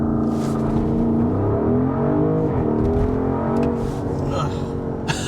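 A used Porsche Cayenne S launching from rest, its engine revving loud and close with rising pitch, a brief dip as it shifts, then pulling hard again.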